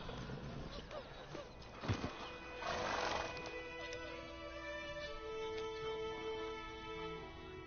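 Roach, Geralt's horse in The Witcher video game, whinnies loudly in a drawn-out neigh among hoof clip-clops and other game sounds, alone without talk.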